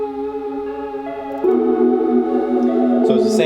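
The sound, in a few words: melody slowed to half speed with Gross Beat effect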